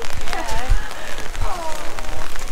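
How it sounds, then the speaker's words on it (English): Steady rain patters on a surface, a constant hiss with soft scattered drops throughout. "They're all cuddled up inside because it's raining."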